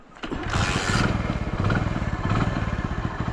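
A recently repaired motorcycle engine catches and runs with a rapid, uneven putter, loud and near, with no talking.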